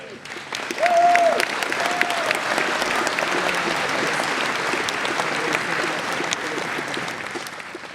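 An audience at a conference closing panel applauds in a steady, dense wash of clapping that lasts the whole stretch, with a brief voice heard near the start over the claps.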